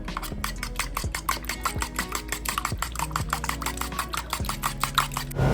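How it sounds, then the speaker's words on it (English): Eggs and buttermilk whisked together in a bowl for fried chicken: a fast, continuous run of small clicking strokes at close range, steady and busy throughout, with no talking. "I'm using 2 eggs and some buttermilk, and then I'm gonna whisk that all together until it's fully combined."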